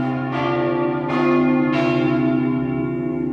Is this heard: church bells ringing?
yes